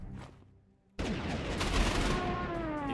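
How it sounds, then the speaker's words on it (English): Anti-air guns fire in the Panzer Corps 2 war game, opening with a sudden loud burst of rapid gunfire that rolls on as a dense barrage after a brief quieter lead-in. "Now our anti-air is going to shoot down there."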